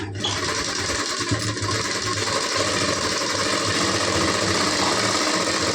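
A sewing machine stitches fabric for a front dart, running as a steady, loud, unbroken mechanical whir close by throughout.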